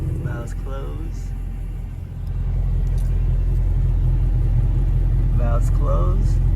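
A BMW M3 E92 V8 with a valved exhaust idles with a deep, steady rumble that swells a little louder after a couple of seconds, while someone speaks briefly over it at the start and end.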